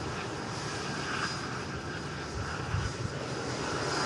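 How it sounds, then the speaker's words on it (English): A Lufthansa Airbus A321neo arriving from Munich touches down on the runway, a loud, continuous broadband engine roar filling the whole stretch with a slight surge toward the end. "Lufthansa aircraft from Munich next to touchdown. 321 Neo."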